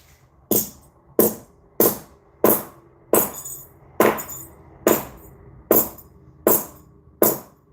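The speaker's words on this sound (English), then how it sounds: "Now I'm just gonna flatten that bitch out with a hammer and we done." A hammer flattens a piece of metal with about ten evenly spaced, sharp blows, each ringing briefly before the next. The strikes are close and loud, with no talking.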